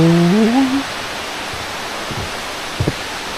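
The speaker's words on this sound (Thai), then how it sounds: "โอ้น้ำตกสูงกันเนาะ" Ko Luang waterfall in Li district, Lamphun, roars as a loud, steady broadband rush of falling water. A brief voice sounds at the start and a couple of small knocks come near the end.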